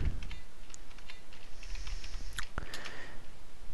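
Typing on a computer keyboard while entering an apt-get upgrade command on Ubuntu, a close, steady patter of key clicks with a few louder strokes, no voices.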